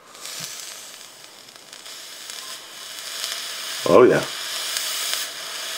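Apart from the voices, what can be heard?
Asmodus Snow Wolf vape firing, e-juice sizzling on coil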